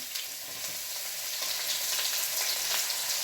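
Chopped ginger and garlic fry in hot oil for an Indo-Chinese dish, an even, dense sizzle and crackle heard up close without talk.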